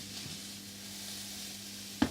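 Soft, steady sizzling of chicken frying in a pan under a low hum, ending with a single sharp clink.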